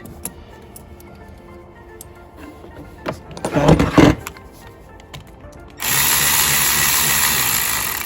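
Ratchet clicks and mechanical ticking come from tightening the clamp on a Banks Ram-Air intake for a 2017–2019 Chevy Silverado 2500HD Duramax. A louder rattling burst follows midway, and a steady hiss or whoosh takes over near the end.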